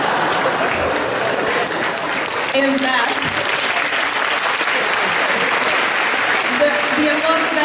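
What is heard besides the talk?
audience applause at an entertainment program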